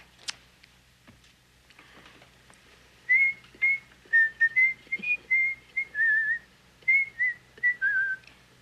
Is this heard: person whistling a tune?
yes